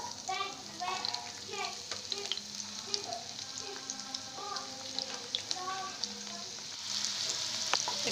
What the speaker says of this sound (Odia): ଏଟା ପିଆଜ ଯେତେକୁ ବ୍ରାଉନ୍ କଲର୍ ପର୍ଯ୍ୟନ୍ତ ଆମେ ଫ୍ରାଏ କରିବୁ